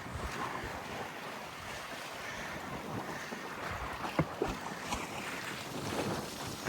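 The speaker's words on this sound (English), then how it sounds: "Definitely have wind this morning." Steady wind roars over open sea water around a sailboat lying at anchor near Port Townsend, with waves and gusts buffeting the microphone throughout and a few brief knocks toward the end.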